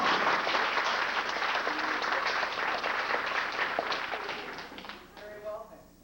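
An audience at a high school stage production of The Wizard of Oz claps hands in a dense, lively burst that fades over several seconds.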